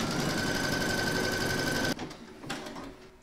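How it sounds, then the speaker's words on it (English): An embroidery machine stitches an appliqué rose stem, a loud, even mechanical whir that runs steadily for about two seconds, then stops abruptly, leaving faint handling noises. "Change your thread colour for one for the stem of the rose, and then you're going to stitch round number 4."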